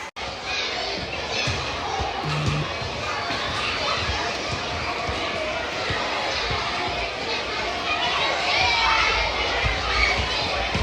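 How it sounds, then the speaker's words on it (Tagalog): Children play and shout outdoors at a school or yard, a continuous crowd of young voices with scattered calls and a ball bouncing, fairly loud and busy throughout. "para magbantay ng mga batang naglalaro"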